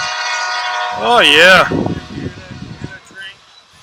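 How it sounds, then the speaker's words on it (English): A train in Chico sounds its horn, a loud wavering blast that bends in pitch and then gives way to rumbling and rattling as it passes, with someone speaking briefly over it. "You hear that train?"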